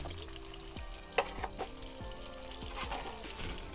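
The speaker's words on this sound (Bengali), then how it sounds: "তো মাছগুলো আমার ভাজা হোক" Jatka ilish (young hilsa fish) frying in hot oil in a home kitchen, a steady soft sizzle with a few brief clinks and stirring taps over it, no talking.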